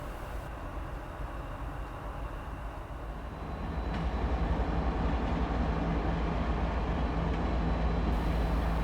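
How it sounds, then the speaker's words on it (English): A loaded 90-car coal freight train led by a solo CSX ET44AH diesel locomotive rumbles at Brooks near Hinton, a steady low drone that swells noticeably partway through and holds loud and close. "ET44AH 3255 is solo on the head end of C20912, with 90 cars loaded at McClure, Virginia"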